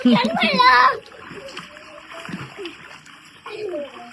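Children playing in a pool make a sharp burst of close water splashing with a voice, and then it drops to faint, scattered water movement and quiet background sounds.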